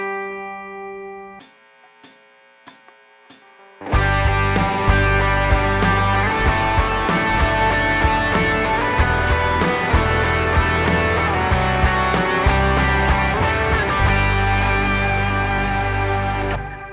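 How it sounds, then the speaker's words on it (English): An electric guitar solo in G played in octave chord shapes, worship style, opens with a few sparse picked notes. A dense, loud full-band groove then takes over with steady driving drums, and the playing stays busy to the end. "a technique you can use for soloing are these octave chord shapes"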